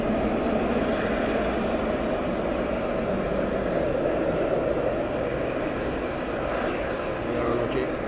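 An Aerologic cargo jet taxis for departure at East Midlands Airport, its engines giving a steady, broad roar that holds even throughout.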